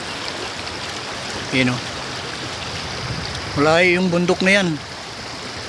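A clear river in New Zealand rushes in a steady, broad hiss that stays constant, with someone speaking briefly over the flowing water partway through.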